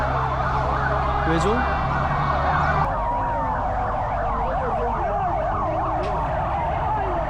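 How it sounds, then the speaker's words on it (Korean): A loud fire truck siren wails nearby on a street in Rosario, Argentina, with warbling rising and falling tones over rumbling traffic, and a brief spoken question partway through. "소방차를 찍으라고 하네요."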